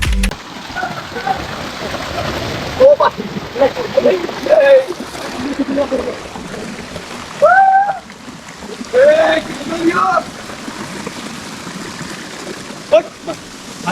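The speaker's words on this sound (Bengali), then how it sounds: "এটা হচ্ছে ঝর্ণার পঞ্চম এবং হচ্ছে ষষ্ঠতম ধাপ" Constant rush of Khaiyachara waterfall cascading over rock steps near Chittagong fills the background while a person talks loudly over it in bursts.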